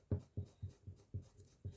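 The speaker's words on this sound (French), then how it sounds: "Sans forcer, j'arrive à tout effacer" A plain white eraser rubs out pencil on paper in six quick, evenly spaced scrubbing strokes, close and soft.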